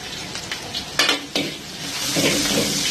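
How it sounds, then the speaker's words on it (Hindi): Ginger and green chili sauté in three to four tablespoons of hot oil for restaurant-style dry chicken chili, a continuous close sizzle broken by a couple of sharp metal spatula clanks and stirring scrapes. "इसको अच्छी तरीके से सौटे करेंगे।"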